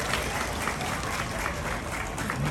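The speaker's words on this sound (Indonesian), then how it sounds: "Tepuk tangan untuk mereka semua." An audience applauds at a public gathering, dense continuous clapping mixed with crowd noise, loud and steady for a couple of seconds, with some voices underneath.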